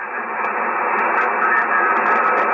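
Amateur radio receiver pulling in a weak park-to-park station: steady band-limited hiss and static filling the whole stretch, with faint crackles riding on top and no clear voice breaking through.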